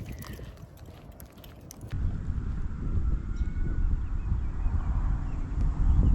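Wind suddenly gusts into the microphone while fishing outdoors, a loud buffeting rumble that rises and keeps roaring after a quieter start.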